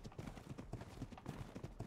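Horse hooves clip-clop in the video game Ark, a quick, steady run of close hoof knocks repeating evenly throughout with no other sound standing out.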